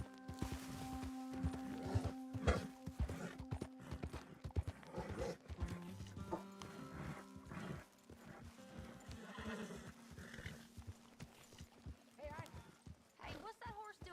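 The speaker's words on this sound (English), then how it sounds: "Hey, what's that horse doing in here?" Horse hooves clip-clop and a horse neighs in Red Dead Redemption 2, with steady hoofbeats and a loud whinny near the start over game music, and voices talking throughout.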